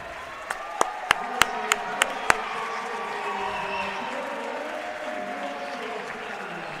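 Crowd applause in a gym at a Hartnell vs Santa Rosa Junior College women's basketball game, opening with a few sharp, separate claps before settling into a steady, moderately loud wash of clapping and crowd noise that carries through to the end.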